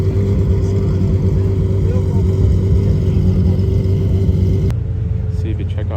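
A Porsche GT3 RS race car engine thunders loudly at close range as a dense, rumbling roar holds steady, then cuts off abruptly near the end, with no voices over it.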